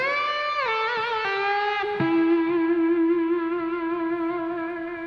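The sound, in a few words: guitar through a Strymon Blue Sky reverb pedal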